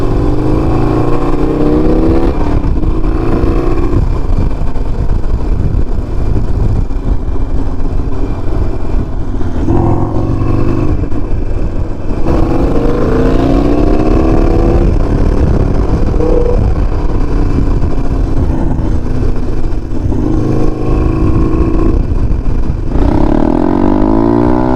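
A Honda Grom motorcycle rides along a road with a continuous loud engine drone, gears rising and falling as it accelerates, with heavy wind rush throughout and no talk.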